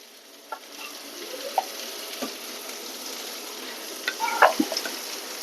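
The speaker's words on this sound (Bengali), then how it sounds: "এখন এখানে দিয়ে দিব পেঁয়াজ।" Onion goes into a hot pan while a rui fish curry is being cooked, giving a soft, steady sizzle with a few faint stirring clinks and scrapes.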